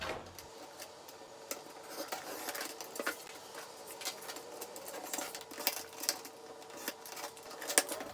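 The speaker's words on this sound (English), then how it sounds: "we're gonna take this slide cutter and cut these down" Repeated crisp slicing and clicking from a slide paper cutter trimming hang tag labels, close and fairly quiet, in irregular bursts with no talking.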